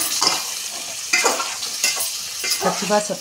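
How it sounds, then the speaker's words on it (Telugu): Masala paste sizzles in a hot pan while a spoon scrapes and stirs it in repeated strokes, close and fairly loud, as the paste is cooked for egg biryani. "ఇప్పుడు ఒకసారి కలుపుకున్నాం."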